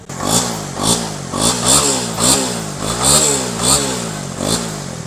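A 2018 Honda CB150R motorcycle engine is revved again and again, about seven quick throttle blips rising and falling over a steady idle, loud and close with a metallic rasp.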